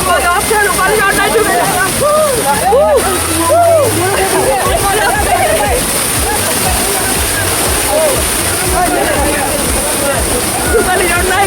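Rupali waterfall in Bandarban, Bangladesh, rushes loudly and steadily throughout, with voices of people talking over the constant roar of the falling water.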